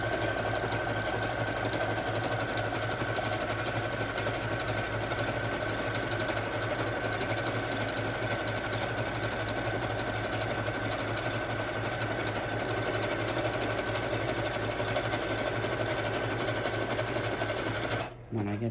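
A sewing machine stitches faux leather from a worn purse into a journal cover, a fast continuous mechanical whirr and rapid needle chatter running steadily for many seconds before stopping abruptly at the end.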